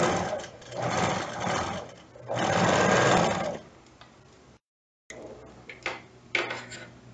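A sewing machine runs in close, steady bursts while stitching the side seams of a straight skirt, whirring loud for a few seconds, stopping, then resuming in shorter runs.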